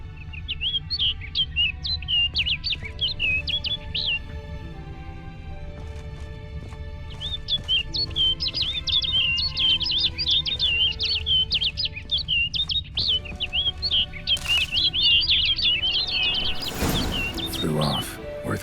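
A bird chirps in rapid bursts in the video game The Witcher 3: Blood and Wine, bright repeated tweets heard up close over game music and ambience, with horse hoof clip-clops and a voice joining near the end.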